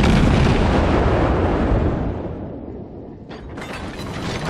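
Naval gunfire in the World of Warships video game: a loud, booming cannon blast that rolls and slowly decays, then a sharp secondary crack near the end.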